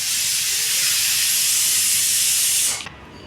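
A home pressure cooker vents steam in a loud, steady hiss that holds evenly for nearly three seconds before cutting off sharply, no voices over it.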